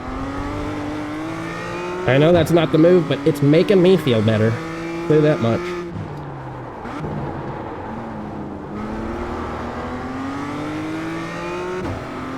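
Race car engine in a racing simulator, revving and shifting with a loud pulsing burst in the early seconds, then settling into a steady drone under continuous talk.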